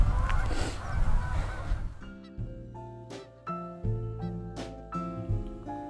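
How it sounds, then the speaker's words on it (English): Geese flying overhead in an outdoor landscape, giving a string of loud, nasal honks in an irregular rhythm, several overlapping calls close by after a short stretch of rustling noise. "Nice for those geese to fly into the shot."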